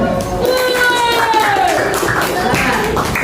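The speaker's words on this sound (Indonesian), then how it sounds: "Beri tepuk tangan." A class of students claps for a classmate during a school Islamic studies lesson, a dense steady patter of hands with voices rising over it throughout.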